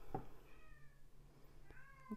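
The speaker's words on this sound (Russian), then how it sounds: "Кот у меня там решил поплакать" A cat meowing from another room while someone knits a lace-pattern shawl; faint, distant cries, a short one near the start and another toward the end, over quiet room tone.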